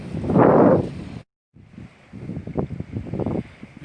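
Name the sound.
wind outdoors while fishing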